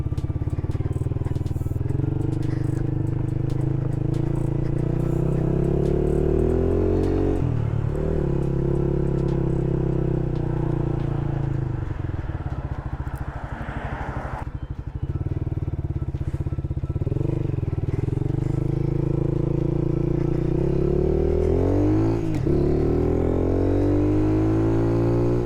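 A Lifan KP Mini motorcycle with a new aftermarket exhaust idles and revs loudly and close, a steady throbbing engine note rising and falling through repeated throttle blips over about twenty-five seconds.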